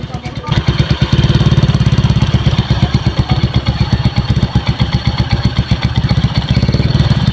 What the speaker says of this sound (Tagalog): At ang napakaingay talaga ng makina.